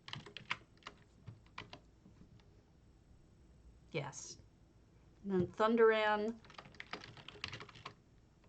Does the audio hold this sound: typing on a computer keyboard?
yes